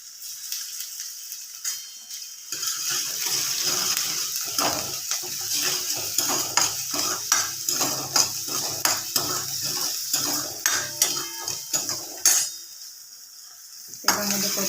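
Ginger-garlic paste sautéing in hot oil with asafoetida while being stirred for spinach dal, a steady bright sizzle broken by repeated scraping and clinking of a spoon against the pan, close and alone.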